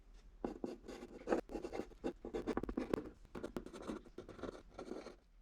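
A pencil shading a bird drawing on paper makes rapid, close scratchy strokes in irregular bursts, each stroke a dry rasp with brief gaps between.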